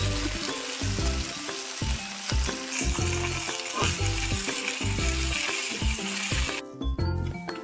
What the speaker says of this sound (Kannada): ಇದನ್ನು ಚೆನ್ನಾಗಿ 2 ರಿಂದ 3 ನಿಮಿಷ ಇದೇ ಥರ ಫ್ರೈ ಮಾಡಬೇಕು.